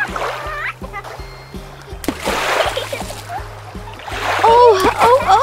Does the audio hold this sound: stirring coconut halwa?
no